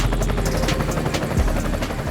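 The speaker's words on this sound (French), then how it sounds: "Un hélicoptère va alors passer à moins de 200 mètres de l'avion et à seulement 33 mètres au-dessus" Helicopter rotor thudding loud and close throughout as it passes within metres of an airliner over Greece, a steady chopping beat over dense low engine roar.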